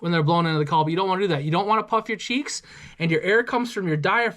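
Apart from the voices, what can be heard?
None of the usual background noises is heard.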